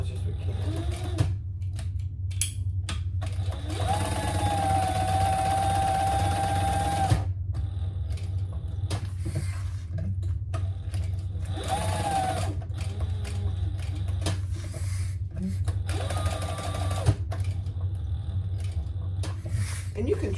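A sewing machine bastes foam onto a crossbody bag panel in short bursts of steady mechanical whirring, stopping and restarting several times, with a voice talking between and over the runs.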